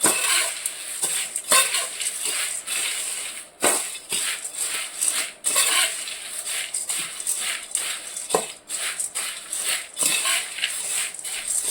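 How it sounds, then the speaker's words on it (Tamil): A spoon scrapes and stirs a garlic spice mix with roasted gram in a pan, producing continuous gritty shuffling and metallic clinks and taps close by, with no talking. "எல்லாத்தையும் கொஞ்சம் கொஞ்சமாக போட்டு பொட்டுக்கடலையும் போட்டு நம்ம கிளறணும்."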